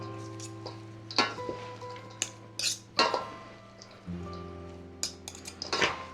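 A spoon stirs and scrapes through a beet salad with spices in a bowl, sharp clinks and knocks coming in uneven bursts, close but fairly quiet, with no voices.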